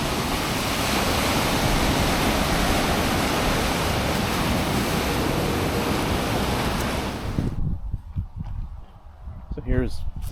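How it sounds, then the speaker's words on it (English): Saltwater ocean waves on the California coast crash and roar as loud, continuous broadband surf for about seven seconds, then drop away abruptly to quieter, uneven ambient rumble. "I do like me some saltwater waves though."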